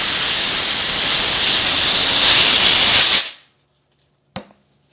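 The small air nozzle on a CNC machine blows a loud, steady hiss of air for about three seconds, then shuts off into silence, with one brief click shortly after.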